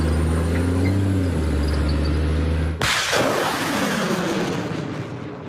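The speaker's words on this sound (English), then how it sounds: "So basically they fired the Haymars" A HIMARS rocket launcher fires a rocket: a droning engine hum gives way to one sudden loud blast, followed by a long roaring rush that slowly fades.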